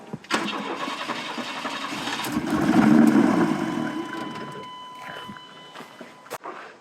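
A Chevy Blazer engine cranks and then catches, rising to a steady running rumble before settling, with some background clatter and nearby footsteps.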